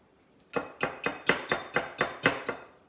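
Tex-Mex shredded cheddar is stirred into cheddar jalapeño cornbread batter in a bowl. About eight sharp, evenly spaced knocks ring out close by, with no talking.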